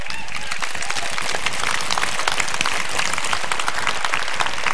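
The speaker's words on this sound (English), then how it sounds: "Give them a clap." Sustained audience applause at a Christian revival meeting in Fort Smith, Arkansas, a dense, steady wash of many hands clapping throughout, fairly loud and close, with no voices rising above it.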